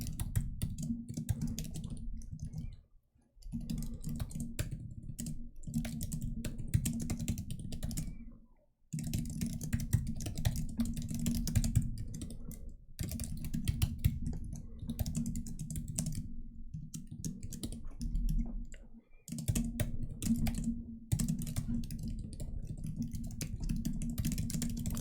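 Rapid, steady typing on a computer keyboard during a coding puzzle session, dense clattering keystrokes close to the mic with a few brief pauses, no voice heard.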